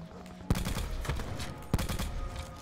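Sniper rifle shots in Black Ops 4, two sharp distinct cracks spaced about a second apart over a busy game soundscape with faint background voice.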